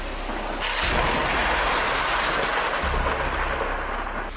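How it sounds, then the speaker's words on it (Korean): A thunder strike in a rainy-day storm gives one loud, sustained rumbling crash that rolls on for several seconds without fading much. "2017년 한 영상에서는 천둥의 아찔한 순간을 보여줍니다."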